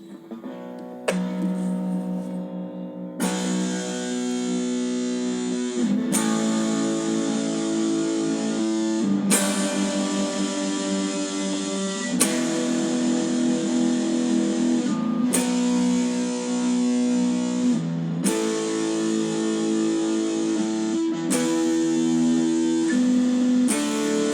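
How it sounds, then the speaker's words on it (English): A distorted electric guitar plays the rhythm riff of a song, ringing chords changing roughly every few seconds in a steady, repeating pattern. "the rhythm guitar part sounds like this"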